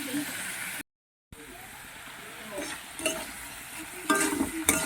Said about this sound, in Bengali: দিয়ে আরও আমি দু মিনিটের মতো এটাকে কষিয়ে নেব